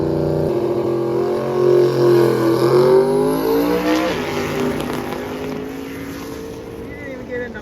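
Ford Mustang drag car accelerating down a drag strip, a loud rising engine roar with harmonics climbing over several seconds, then fading as it pulls away down the track.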